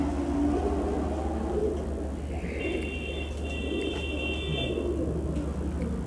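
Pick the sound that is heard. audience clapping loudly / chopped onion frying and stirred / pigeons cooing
pigeons cooing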